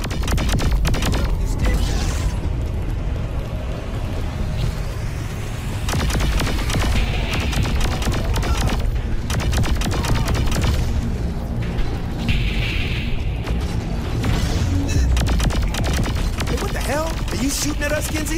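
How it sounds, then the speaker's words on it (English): Repeated booming explosions and rapid crackling blasts in Saints Row IV fill a dense, continuous, loud game soundscape with rumbling low end throughout. "Explosions? Either it's under attack or it's coming apart."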